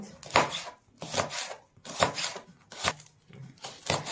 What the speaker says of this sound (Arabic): بنقطع الفلفل الحامي